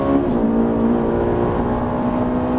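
A Ferrari 458 Italia engine pulls at full throttle on track, giving a steady, loud, smooth mechanical drone with a sustained tonal whine that holds without letting up.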